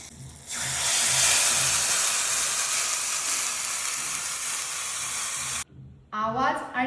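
Masala kadhi mixture poured into a hot tempering of oil, mustard seeds, cumin, asafoetida, turmeric, fenugreek powder, curry leaves and chillies, giving a loud, steady sizzling hiss for about five seconds that cuts off abruptly, followed by quieter kitchen sounds.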